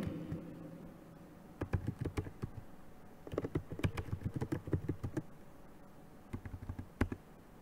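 Quick bursts of computer keyboard keystrokes, clicking in short irregular runs with brief pauses between them, close and fairly quiet with no talking.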